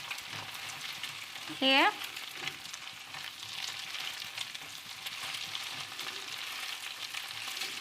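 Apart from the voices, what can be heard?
stir-frying egg and vegetables in a pan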